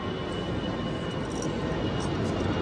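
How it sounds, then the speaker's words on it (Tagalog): Airplane flying past a condominium, heard as a constant, fairly faint engine rumble and hiss that holds evenly without breaks, with no voices on top. "Dumadaang eroplano dito eh."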